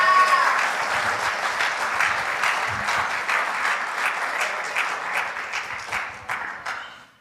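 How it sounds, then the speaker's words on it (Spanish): A church congregation applauds throughout, a dense wash of clapping that stays strong and then gradually thins toward the end. "Dele un aplauso al Señor."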